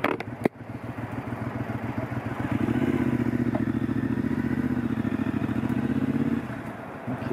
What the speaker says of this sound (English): it's actually got a exhaust on it that makes noise instead of the stock one